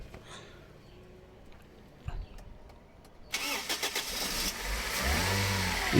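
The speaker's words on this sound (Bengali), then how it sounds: "স্মুথ সাউন্ড দুই হাজার সিসির ওয়ান টিয়ার ভিভিডিআই ইঞ্জিন" A Toyota Hiace van's 2000cc 1KD VVT-i engine, converted to CNG, cranks and starts partway through, then settles into a steady, close idle that continues after a quiet stretch with faint handling noises.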